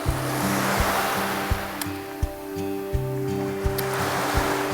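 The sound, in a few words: sea waves breaking on the shore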